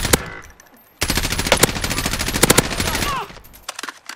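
Rapid automatic gunfire in the Call of Duty Warzone video game, at Boneyard, with dense bursts and sharp single shots over about three seconds, loud and close, under brief talk.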